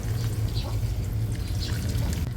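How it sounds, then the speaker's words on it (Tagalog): Water pours steadily into a cooking pot of sautéed banana blossom, a continuous splashing trickle over a low background hum. "Dadagdagan pa po natin ng kaunting tubig."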